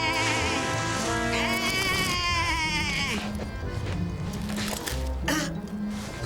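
Sheep bleat over a busy cartoon soundtrack of music and effects, several wavering cries layered across the mix at steady loudness alongside other animated sounds.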